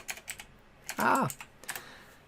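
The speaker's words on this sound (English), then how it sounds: "So I'll just type in teams.microsoft.com." Quick, light keystrokes on a computer keyboard as a web address is typed, a scattered run of clicks with a brief higher tone in the middle, close and fairly quiet.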